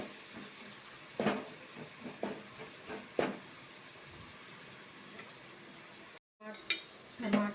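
Tomatoes sizzle in a frying pan under a low steady hiss as a spoon scrapes through them in a handful of distinct stirring strokes, with a brief cut to silence near the end.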